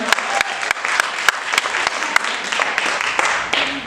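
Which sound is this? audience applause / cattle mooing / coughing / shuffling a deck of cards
audience applause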